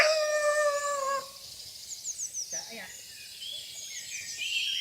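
A dog howls in long drawn-out tones at a durian farm in the countryside, the wail fading after about a second, followed by faint bird chirps and quiet rustling in the background.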